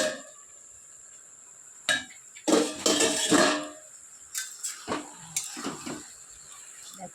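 Lid lifted off a pot of bottle gourd curry in a home kitchen, a few metallic clanks and scrapes with a short burst of rattling in the middle, fairly close and quiet between the knocks.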